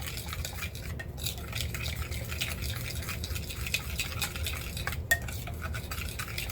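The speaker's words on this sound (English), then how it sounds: "So you just want to stir it up like so, just to make sure everything's all together." A pork chop marinade is stirred in a bowl, making a continuous wet swishing and sloshing with occasional utensil taps against the side, close and moderately loud with no voices.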